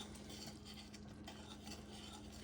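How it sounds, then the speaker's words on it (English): A spoon stirs a boiling no-bake cookie mixture of cocoa, oatmeal and peanut butter in a pot, steady scraping and swishing against the bottom with faint bubbling, close and continuous. "And I always stir mine because I don't want it to stick to the bottom of the pot."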